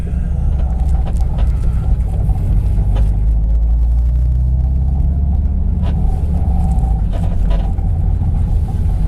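A project car with a modified turbo setup rumbles at low speed as it pulls into a parking lot, its deep engine drone steady and close throughout.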